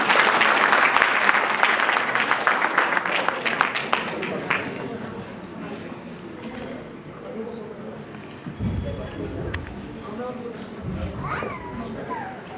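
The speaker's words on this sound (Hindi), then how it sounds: "जोरदार तालियों के साथ उनका स्वागत करें।" Loud applause from an audience greets performers coming onto the stage at a school or community event, clapping strongly at first and then fading. Someone speaks over the dying claps.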